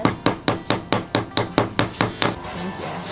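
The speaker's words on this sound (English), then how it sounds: "I'm hammering this to make it flat so it's straight." A metal ring is hammered flat in a ring-making workshop in Bali: about a dozen loud, sharp metallic strikes close by in an even rhythm, growing slightly blurred and uneven toward the end.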